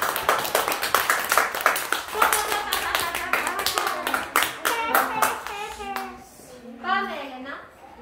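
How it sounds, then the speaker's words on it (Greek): A burst of hand clapping from a small group at a school celebration for 28 October, steady and lively, with children's voices chattering over it before the clapping fades into talk. "Δυνατό χειροκρότημα στον Αναστάση!"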